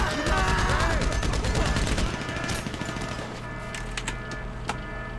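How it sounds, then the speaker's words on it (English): Rapid bursts of enemy gunfire in the game GTA 5 Online, dense overlapping shots loud at first and then thinning to scattered single cracks over a low engine-like drone. "they're shooting me kind of before they're visible"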